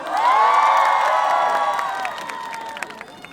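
Award ceremony crowd clapping and cheering for a singer's stage, with loud sustained whoops and shouts that ease off into scattered claps.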